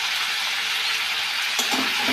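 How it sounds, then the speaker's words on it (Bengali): Chunks of elephant foot yam fry in hot oil over high heat, a dense, steady crackling sizzle that fills the background, with a slight bump and some stirring movement near the end. "হাই স্পিড দিয়ে আমি ভালোভাবে ভেজে নেব"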